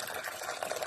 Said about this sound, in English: I'll pour that straight into my pan.